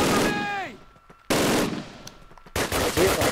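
Automatic weapon fire in the video game Call of Duty WWII, with three loud close bursts of rapid shots separated by brief pauses.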